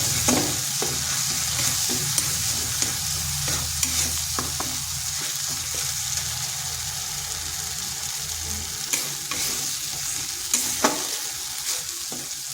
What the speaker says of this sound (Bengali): ধনে গুঁড়ো আর লঙ্কার গুঁড়ো মশলাটা একটু কষে নিচ্ছি